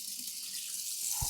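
Tap water runs steadily into a kitchen sink fitted with a garbage disposal in the drain, a continuous hiss with a brief low thump near the end.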